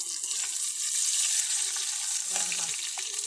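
A handful of raisins sizzles in a spoonful of hot pure cow's ghee while making coconut rice, giving a steady, close frying hiss with a slight bubbling shift near the end.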